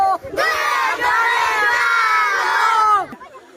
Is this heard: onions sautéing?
no